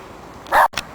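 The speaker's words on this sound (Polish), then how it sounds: "O właśnie pies pilnuje tego." A guard dog at an institute building in Żoliborz lets out one loud, sharp bark followed by a brief, softer yip, close by against faint outdoor background noise.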